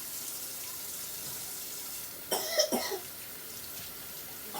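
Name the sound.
child coughing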